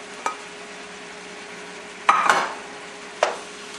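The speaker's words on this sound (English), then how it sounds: "Don't forget to stir your zucchini and your onions." A utensil scrapes through zucchini and onions frying in a pan, with three distinct stirring scrapes and clinks over a continuous soft sizzle, close up and without talk.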